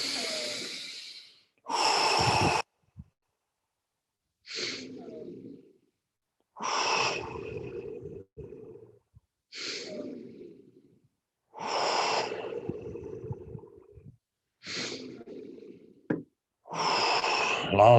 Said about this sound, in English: Keep on breathing deep.